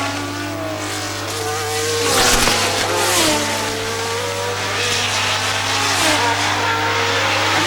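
A red Brabham Alfa and a John Player Lotus Ford race at Dijon in 1977, their engines wailing loudly with rising and falling pitch through gear changes, while a commentator talks over them.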